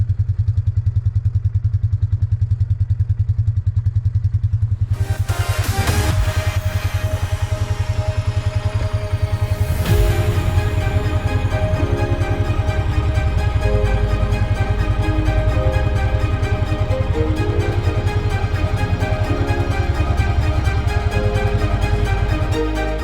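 An old engine with a starter frozen after a snow storm cranks and then catches. It settles into a loud, steady, close-up rumble with rattling and clattering, and nobody speaks over it.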